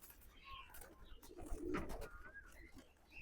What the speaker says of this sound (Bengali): এখানে একটা শিরা পায়রা